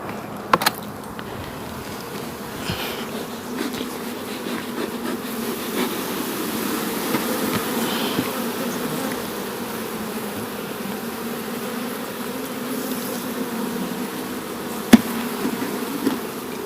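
Honey bees buzz in a dense, continuous drone around an open hive in Jamaica while older comb is being removed, close and steady with a few faint knocks of handling.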